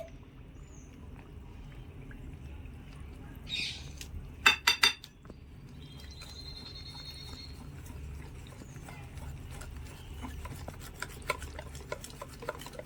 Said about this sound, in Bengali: এবার একটা হুইক্সের সাহায্যে ভালো করে মিশিয়ে নিতে হবে।